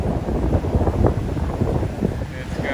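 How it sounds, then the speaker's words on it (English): Strong wind gusts across a marina on Mobile Bay, Alabama, ahead of Hurricane Sally, producing a loud, steady rumble of wind buffeting the microphone with faint voices underneath. "wind's blowing pretty good now"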